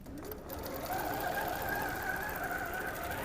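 A computerized QCT6 Plus quilting machine stitches a pantograph pattern, giving a steady close whirring hum with a fast rhythmic needle chatter that runs on without a break; no talking.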